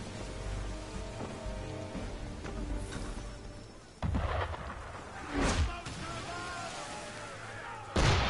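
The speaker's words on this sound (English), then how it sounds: "Why is he shooting at us?" Cannon gunfire booms from a ship in Assassin's Creed 3, with a few heavy blasts standing out over a steady rain-like rumble and game ambience, and voices talking briefly.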